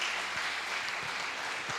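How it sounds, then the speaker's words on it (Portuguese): A church congregation claps in steady, dense applause for the Lord, with the clapping holding an even level throughout. "Dê um aplauso ao Senhor para todos sempre."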